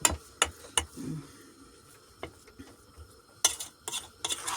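Cheese for syrniki gets mashed and mixed with egg and salt, heard as soft squelching stirs punctuated by several sharp clinks of a utensil against a bowl, close and quiet, coming in clusters at the start and end.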